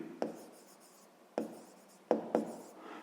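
A pen writes on paper during a sixth-grade maths exercise, with a few sharp taps of the pen tip and faint scratching strokes, close and quiet, without talk.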